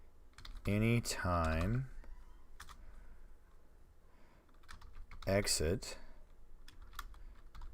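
Light, scattered clicks of a computer keyboard while Python code for a command-line program is typed, heard between stretches of someone talking.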